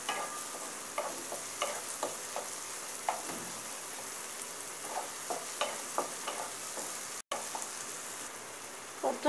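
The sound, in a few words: prawn masala ingredients sautéing in a pan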